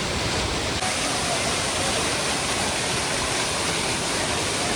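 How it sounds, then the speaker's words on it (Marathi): A waterfall at Savdav rushes loud and steady, a dense broadband roar of falling water that fills the whole stretch without a break. "हा बघा धबधबा बघा मस्तच ना"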